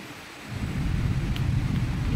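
Light rain falling outdoors in Busan, South Korea, a soft steady wash of noise that swells after a moment and continues evenly with no voices.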